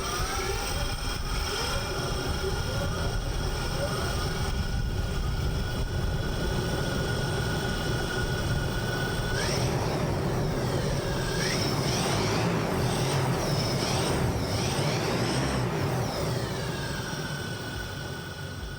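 An experimental aircraft on a test flight, lifting about ten feet to check for oscillations, gives a loud, steady, close roar with whining tones that sweep up and down throughout, with no talking.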